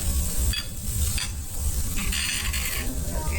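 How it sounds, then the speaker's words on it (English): A ribeye steak sizzles on a 750°F lava stone at a restaurant grill, a loud, close, continuous hiss and crackle with occasional scraping and clinking as it cooks. "here comes my ribeye in that super hot 750 degree Fahrenheit lava stone that it would be cooked on"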